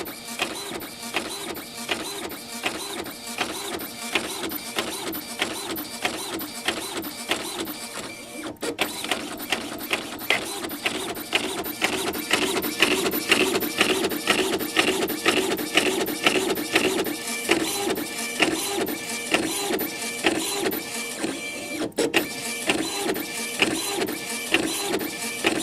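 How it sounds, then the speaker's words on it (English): Epson Stylus Color 800 inkjet printer running a draft-mode print job, with a steady rapid rhythmic whir and clatter of the print head shuttling back and forth continuously, close and alone. "Oh, it's printing."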